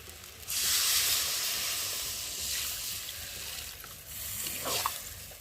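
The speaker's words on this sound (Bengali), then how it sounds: "আর এখন আমি জল দিয়ে দেবো" Water is poured into a pan of frying masala for potato curry, bursting into a loud, close hiss and sizzle that stays steady, with a few brief pulses.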